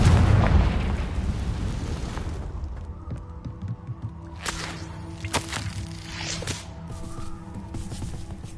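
A Confringo fire spell blast in Hogwarts Legacy, a rumbling boom at the start that fades into quieter crackling bursts and sharp pops, with no talk over it.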